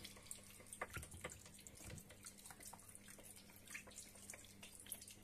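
Water is poured into a cooking pot to make clam noodle broth, giving a soft, continuous trickle and splash at low volume with no talking.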